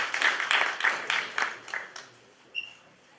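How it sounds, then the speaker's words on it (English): Audience applause after a student leadership debate, a short burst of claps that fades over about two seconds, fairly close, with a faint tone at the end. "Let's give them a round of applause, everybody."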